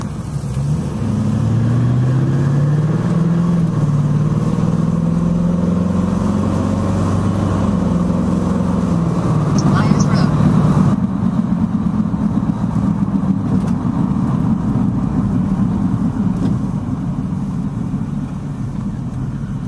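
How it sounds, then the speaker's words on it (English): A Jeep's engine rumbles steadily as it drives around at an outdoor car-show gathering on a cold morning, the note rising and falling with speed while staying close and loud throughout. "Saunders riding around in his Jeep."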